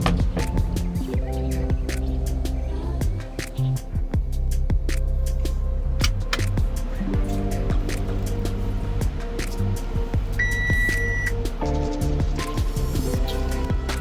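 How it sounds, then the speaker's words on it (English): Audi SQ5 oil warning beep, a short electronic tone sounding inside the car around the eleventh second over a steady cabin hum and engine throb, accompanied by brief higher chimes. "That is my oil warning light saying that I need to add oil."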